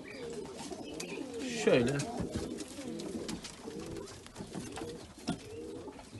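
Pigeons coo in a loft, low throaty rolling calls repeating under steady background noise, with someone speaking briefly over them.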